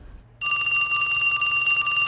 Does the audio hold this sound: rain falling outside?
no